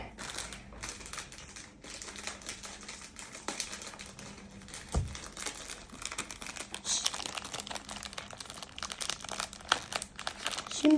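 Snack wrapper from an international junk-food haul, likely a strawberry-flavoured treat, crinkles and crackles steadily at close range, with scattered rustles and a sharper tear near the middle.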